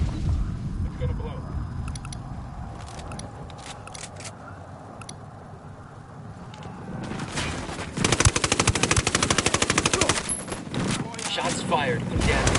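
Automatic gunfire in the video game Ghost Recon Wildlands during a fight with cartel reinforcements: scattered shots and clicks at first, then a rapid, loud machine-gun burst of evenly spaced rounds, with voices talking in the background.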